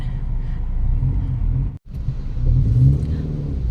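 Cars in slow road traffic in Batangas after flooding, a steady engine rumble and passing-vehicle whir from inside a vehicle, with a brief dropout midway and a swell of revving toward the end.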